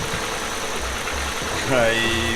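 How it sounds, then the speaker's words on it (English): A car engine idles after a valve adjuster shim replacement, a steady low running hum with a slight rise near the end, while someone talks over it. "I think the idling is also a lot more smoother than before."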